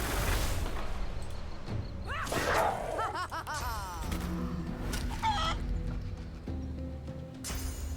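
A chicken clucks from the Chicken Claw skill in the fantasy role-playing game Divinity: Original Sin 2, mixed in with other game sound effects and combat noises.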